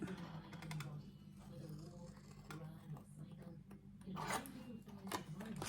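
Scissors or a blade cut through the top of a handmade paper envelope box for a shadow box, giving a run of scratchy, rasping cuts that swell near the end, with a low voice murmuring underneath.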